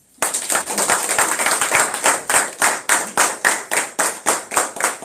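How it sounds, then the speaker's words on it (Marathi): An audience claps together in a lecture hall after a teacher's explanation of a business offer, starting as a dense burst of applause and thinning into a steady rhythmic unison clap that carries on for several seconds, loud and close. "मग टाळ्या कुठे?"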